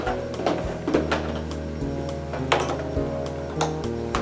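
A sewing machine stitches a fabric face mask, its motor humming steadily with a string of quick mechanical clicks and taps at close range, and no voices.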